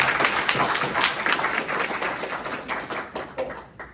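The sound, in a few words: audience applause for the panelists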